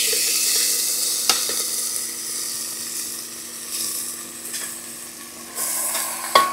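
Chicken and onion fry in a pan over a wood-fired stove outdoors, with a continuous bright sizzle and occasional scrapes and taps of a stirring spoon.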